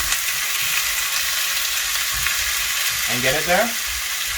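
Chicken sizzling in a cast iron pan for quesadillas, a loud, steady frying hiss that continues throughout while someone speaks briefly over it near the end.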